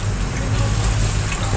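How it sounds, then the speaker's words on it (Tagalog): A small splash of vinegar poured into a pan of half-cooked squid, a steady liquid trickling wash with a low background hum throughout. "maglagay lang ako ng suka kunti"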